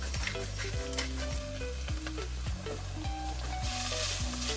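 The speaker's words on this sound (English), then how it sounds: "Our oil is hot, toss in our onions." Onions frying in hot olive oil in a pan, a steady close crackling sizzle with periodic scraping stirs, and faint background music running underneath.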